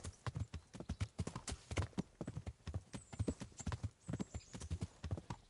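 Horse galloping through a forest in the video game Kingdom Come: Deliverance, with steady rapid clip-clop hoofbeats that carry clearly and evenly throughout, fairly close but soft in level.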